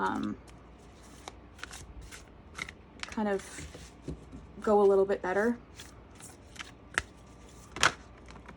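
Oracle cards from a Southern Gothic Oracle deck shuffled in quick riffling bursts, with a longer cascading riffle in the middle, while a person talks on and off.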